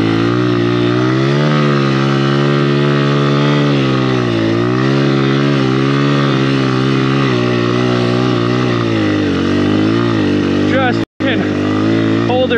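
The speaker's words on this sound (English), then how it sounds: "I'm driving the engine into the snow, and this bike is literally completely bottomed out here." A Honda XR100R dirt bike, bottomed out in deep snow, revs loud and close, its engine note rising and falling in long strained sweeps with a brief cutout near the end and a rider talking over it.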